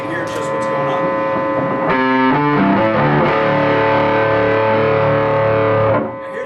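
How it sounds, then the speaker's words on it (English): Bass guitar played through a Korg effects pedal with the distortion turned fully up, a loud, thick, buzzing drive holding sustained notes and a short run of changing pitches, recorded live at a NAMM trade show booth. "Now I'm going to go and turn the distortion all the way up so you can hear just what's going on."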